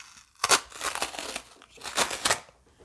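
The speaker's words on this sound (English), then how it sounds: "all you need to do is peel off that piece to reveal a fresh one" A used sticky sheet is peeled off a lint roller. It makes two short bursts of close crinkling, tearing paper sound separated by a brief pause, fairly quiet and with no voices.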